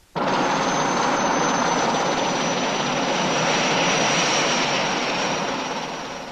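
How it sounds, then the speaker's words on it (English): Moroccan Army helicopter in flight, a loud, steady, continuous engine and rotor roar that starts abruptly and holds level before easing slightly toward the end, heard alone. "I was airlifted to Morocco's front lines by Army helicopter."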